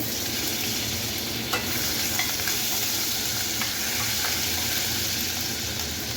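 Grated ginger, an inch's worth, drops into hot oil in a frying pan for an aloo matar gravy, giving a steady close sizzle with light stirring scrapes and a few soft taps throughout.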